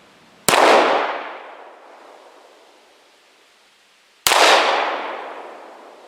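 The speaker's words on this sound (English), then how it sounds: "Put a couple rounds into that." Two loud, sharp gunshots from a Jimenez JA 9 pistol fired outdoors, several seconds apart, each a sudden crack followed by a long fading echo.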